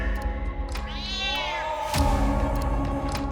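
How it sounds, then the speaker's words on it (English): A black cat meows in a rising, drawn-out cry, set within a spooky horror-story soundscape with a low droning background and a sudden hit near the middle, close and clear. "a black cat also comes running and sits near Dia"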